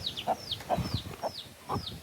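A chicken clucks in a quick, repeated rhythm, with short rising chirps mixed in, close by and fairly clear over light background noise.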